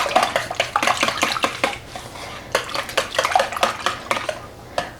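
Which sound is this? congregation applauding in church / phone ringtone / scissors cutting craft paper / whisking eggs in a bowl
whisking eggs in a bowl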